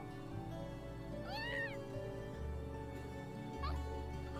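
A cat in the video game Trails of Cold Steel meows twice, a rising-falling mew followed by a shorter one a couple of seconds later, over quiet game background music.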